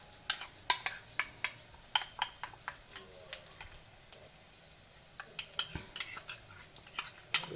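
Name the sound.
stirring yogurt into a spice mix in a pan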